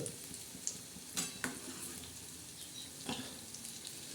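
Spinach fritters (bhaje) in chickpea-flour batter sizzle steadily in hot oil, with a few light clacks and scrapes as they are stirred and flipped, all at a soft, close level.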